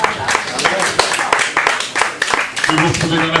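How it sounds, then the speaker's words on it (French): An audience at a crime-novel fair in Penmarch breaks into applause, a close, dense run of handclaps with sharp individual slaps over a few seconds, voices murmuring underneath toward the end. "Eh ben merci, on peut l'applaudir."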